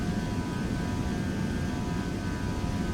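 Airliner engines in FSX hold a steady, loud roar at takeoff power, a broad rushing drone with a faint whine that stays even throughout and has no voices.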